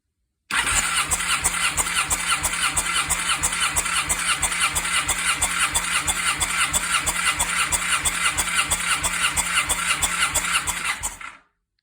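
Kawasaki W650/W800 motorcycle engine cranking on the starter with throttle held open for a compression check: a steady, rapid rhythmic churning that runs loud and unbroken for about eleven seconds, then stops.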